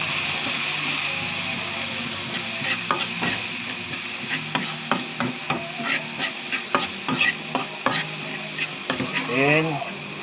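Onions sautéing and being stirred in a pan for a home-style mixed seafood dish with oyster sauce, a steady close sizzle broken by repeated scraping stirs of the utensil against the pan.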